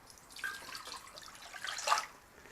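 Water poured into a pot for elderflower cordial, a quiet splashing trickle that swells to a brief louder gush near the end, with no one talking.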